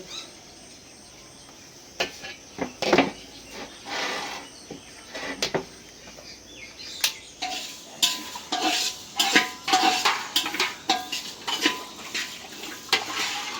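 Spoon stirring boiled milk sweetened with sugar in a cooking pot, scraping and clinking against the metal in irregular bursts that grow busier toward the end, close and without talk.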